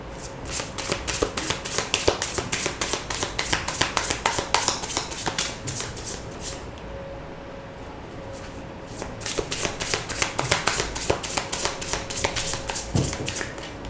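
Tarot cards shuffled by hand, a steady rapid riffle of crisp card flutters up close, briefly pausing midway before resuming, with no talk.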